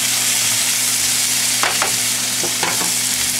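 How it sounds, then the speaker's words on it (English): Two burger patties sizzle in a pan on a stovetop, a steady broadband frying hiss with a few sharper crackles and spatters partway through, close and continuous with no talking. "Now, you're probably wondering what all the sizzling is about. I'm cooking 2 extra burger patties on the stove"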